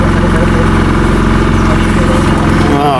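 A houseboat engine on the Alleppey backwaters, a loud steady diesel drone with a pulsing low throb, near and constant throughout.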